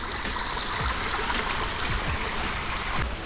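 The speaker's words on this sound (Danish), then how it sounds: "Nu er der lige et lille vandfald mere." A small waterfall on a rainy forest hiking trail in Florianópolis flows in a continuous rushing, splashing wash, fairly close and steady, with no voices.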